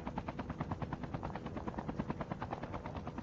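Helicopter rotors in a video game thump in a fast, steady pulse, loud and continuous throughout with no voices over it.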